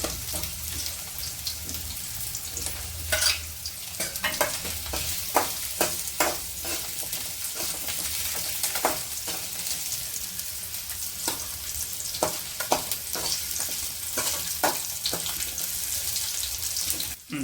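Coriander for chutney is lightly roasted in a pan, giving a steady soft sizzle and frying crackle with intermittent scraping and stirring clicks throughout.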